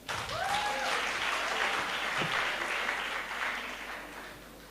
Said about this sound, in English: Let's clap for our judges.